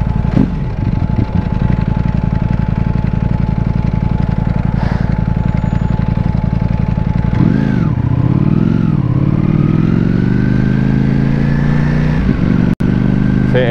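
A Ducati Panigale V4S engine drones at steady high revs, then surges and bounces against a limiter near 12,000 rpm before settling into a sustained, rising whine; close and loud throughout.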